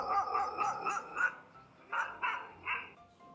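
Recorded dog barking plays from a speaker to test the sound detection of a TP-Link Tapo C246D dual-lens security camera: a burst of rapid barks, a short pause, then three more spaced barks, fairly loud and clear.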